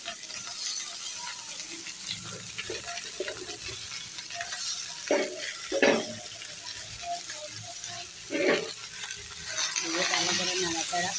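Cut potatoes sizzling in hot oil in a pan with browned onions, a steady close frying hiss with intermittent scraping and clinking strokes of a utensil stirring through them.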